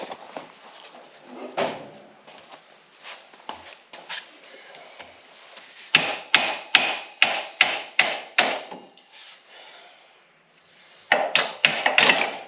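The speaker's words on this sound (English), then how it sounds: "I'm gonna get a hammer. We're gonna whack that." Close, ringing metallic whacks from a hammer on a metal part of an EZ-GO RXV golf cart lift kit land in quick rhythmic bursts of about ten blows, separated by pauses and lighter taps.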